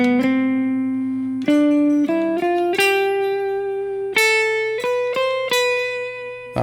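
A guitar plays a short rhythmic figure of plucked notes and chords, with sustained ringing tones and irregular accented attacks, clear and close.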